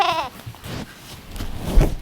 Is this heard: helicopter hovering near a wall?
no